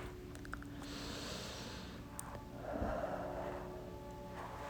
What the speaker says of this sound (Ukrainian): Дихаємо.